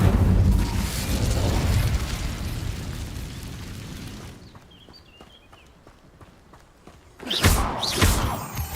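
An Incendio fire spell from the Hogwarts Legacy video game goes off as a loud roaring blast that fades to a quieter tail, then a second burst of fiery noise flares up near the end.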